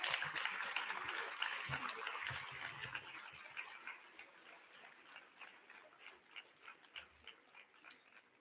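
A crowd of about a thousand people claps in a graduation ceremony hall, loud and dense at first, then thinning into scattered, fading claps toward the end.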